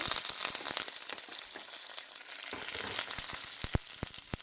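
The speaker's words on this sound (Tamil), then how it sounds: "எல்லாத்தையும் நல்லா தாளிப்போம்" Chillies and curry leaves temper in hot oil, a dense crackling sizzle with popping spits throughout and several sharper pops toward the end, close and without speech.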